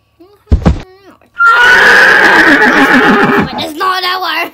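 A horse named Frog whinnies loudly and at length right nearby, a long shrill neigh with fluttering tail-off, preceded by a brief squeal and faint sounds, with a voice murmuring around it.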